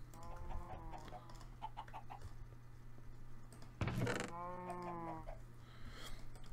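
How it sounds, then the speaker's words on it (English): Minecraft chicken clucks in repeated short bursts from the video game, close and clear over a steady low hum, with a brief loud knock partway through. "Why is there a chicken in the house?"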